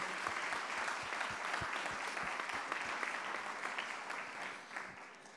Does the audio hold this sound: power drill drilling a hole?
no